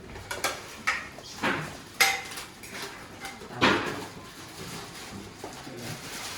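Dishes and cutlery clink and clatter as rice is served at a meal, with a series of sharp scattered knocks and scrapes at close range, fairly quiet overall.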